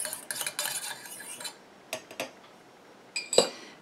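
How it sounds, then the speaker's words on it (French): Homemade mauve and ylang-ylang micellar water stirred between additions: a few bursts of a utensil clinking and scraping against a container, the first about a second and a half long, then short separate taps and a final sharp clink, with quiet gaps between. "Entre chaque ajout, je mélange un petit coup."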